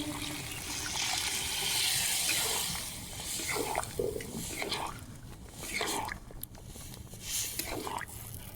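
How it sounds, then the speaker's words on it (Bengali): Boiled-pea cooking water pours into a pot of vegetarian ghugni, a steady wet splashing and trickling up close that thins out into a few sloshes and drips. "মটর যে সিদ্ধ করেছিলাম তার জলটা ছিল পুরোটা দিয়ে দেবো"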